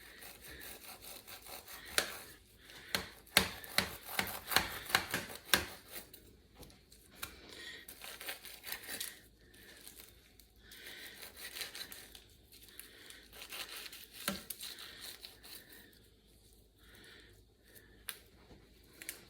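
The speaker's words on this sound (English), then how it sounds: "You can trim up this fat a little bit." Knife trimming fat from a raw turkey being spatchcocked and butchered: close, quiet scraping and sawing strokes in irregular bursts, busier in the first few seconds and sparser later, with no talking.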